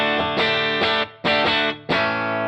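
An electric guitar played through an Axe-FX III tone match of a 2002 Korg-era Vox AC30 amp rings out in full, sustained chords, in several strummed bursts with short gaps, alone and upfront.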